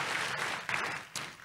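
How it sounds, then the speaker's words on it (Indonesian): Church congregation giving lively applause during a Sunday service, a continuous crowd of clapping hands with a couple of sharper bursts, brief and fairly close, without speech. "Kasih tepuk tangan yang meriah untuk Tuhan Yesus."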